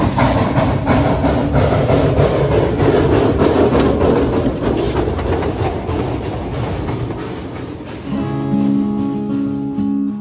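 A narrow gauge 0-4-0 steam locomotive climbs a steep 6% grade at a museum site with loud, close rhythmic chuffing and clanking, then tapers off and gives way to a sustained whistle-like tone near the end.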